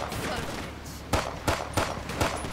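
Gunfire in GTA 5 during a park ranger police patrol, several sharp shots cracking out in quick succession over background game noise, fairly loud and close.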